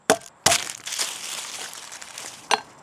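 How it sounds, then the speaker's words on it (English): Parsley leaves chopped on a cutting board with a knife, a few sharp crisp chops followed by scattered crunchy cutting sounds, close and fairly quiet. "Next, I'm going to cut up my parsley"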